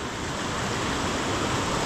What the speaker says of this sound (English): This is not really the kind of creek